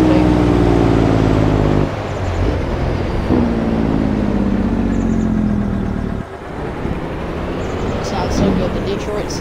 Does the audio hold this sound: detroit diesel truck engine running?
yes